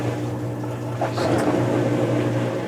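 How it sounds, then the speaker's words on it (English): A high-efficiency clothes washing machine in auto mode pumps and spins during its rinse, giving a steady low motor hum with faint watery churning and a slight swell partway through. "it's kind of pumping and spinning right now"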